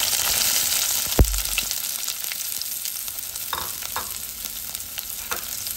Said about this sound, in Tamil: இப்போ கடுகு சீரகம் நல்லா பொரிஞ்சிருச்சு. இதுல பொடியா கட் பண்ணி வச்சிருக்கிற சின்ன வெங்காயம் சேர்த்துக்குங்க.